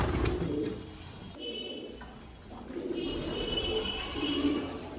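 Pigeons coo steadily inside a breeding loft, a female among them heading in to sit on eggs; the low throaty calls swell and fade in overlapping phrases with faint background stirring.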